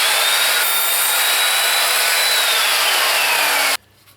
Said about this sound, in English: push it against the fence, make the second cut